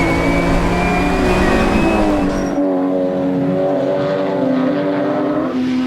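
GT race cars, a Porsche among them, roar past at Lime Rock, loud engines revving hard then dropping in pitch as one pulls away, with further cars droning behind.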